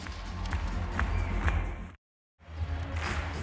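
Crowd of about 10,000 in Pinnacle Bank Arena during a women's volleyball Olympic qualifier between the USA and the Dominican Republic, a steady broad murmur with some claps and thuds, broken by a short cut to silence before the noise resumes.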